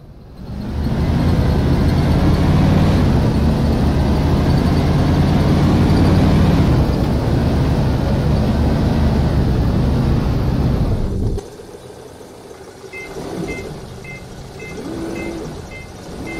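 Airport baggage tug driven in a flight-operations simulator game: a steady, loud engine drone with rumbling low end runs for about eleven seconds, then drops to a quieter idle with faint intermittent mechanical tones.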